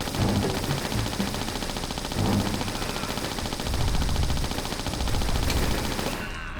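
Rapid bursts of Uzi fire in a Tomb Raider prison level, loud and continuous with several pulsing waves of automatic shots over a steady noisy bed, no talking.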